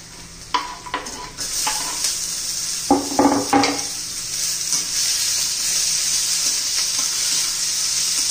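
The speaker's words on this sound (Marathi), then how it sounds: "आता टोमॅटो घालून घेऊया" Chopped tomatoes and capsicum frying in a pan for Maggi masala, a steady loud sizzle throughout with a few close stirring scrapes and clatters early on, no voices.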